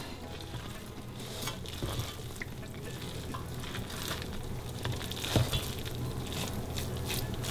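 A fork or spatula gently mixes sweet zarda rice in a pot over a low flame. A steady soft hiss runs under light, irregular scraping and stirring strokes.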